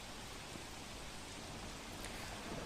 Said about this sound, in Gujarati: સાર્વત્રિક વરસાદ વરસી રહ્યો છે।